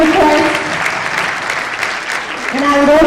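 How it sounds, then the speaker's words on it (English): Full audience applause for a professor being welcomed on stage at a conference hall, loud and sustained, with a voice speaking over the clapping near the start and again at the end. "Please put your hands together for none other than Professor Susie Sawyer"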